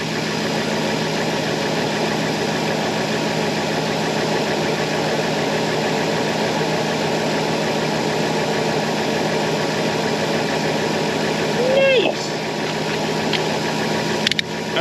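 A Timberjack skidder's engine runs steadily at idle with a close, rumbling diesel drone and faint knocking, holding even throughout, with brief clanks near the end.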